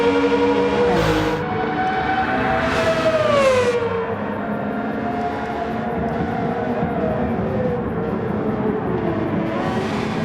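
Pagani Zonda R race car engine in the video game Gran Turismo 7, a loud sustained high-pitched engine note that rises and falls with gear changes, steady and close throughout with no talking.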